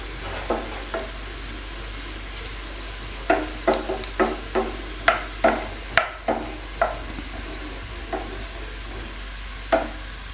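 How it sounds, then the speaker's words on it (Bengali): Onion and garlic fry in a pan over medium heat for arum spinach dal, with a steady soft sizzle and a dozen separate spatula scrapes and clinks at uneven intervals, close and fairly quiet. "পেঁয়াজ ভাজা মোটামুটি হয়ে এসেছে পেঁয়াজ রসুন"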